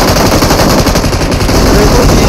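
Sustained automatic gunfire spraying in a mobile battle royale squad match, a loud, dense burst of rapid shots running continuously without pause.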